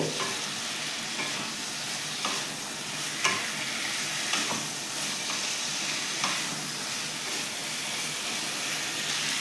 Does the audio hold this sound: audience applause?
no